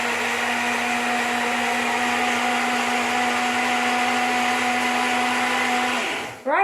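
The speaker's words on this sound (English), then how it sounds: "So now let's blend it." Blender whirring steadily at high speed through tomatoes, canned chopped tomatoes and a little water for pizza sauce, a loud constant motor drone that winds down abruptly near the end.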